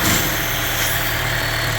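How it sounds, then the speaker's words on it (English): A 2011-2016 Chevy Cruze 1.4-litre turbo engine with a P0171 fault idles steadily up close, a constant low mechanical hum with a faint whine on top. "There's a Chevy cruze sound like this."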